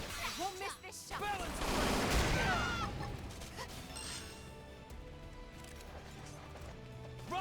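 Rapid volleys of gunfire in the sci-fi video game Xenoblade Chronicles X, bursts of shots layered with impacts and mechanical clatter beneath swelling game music, with a voice speaking briefly.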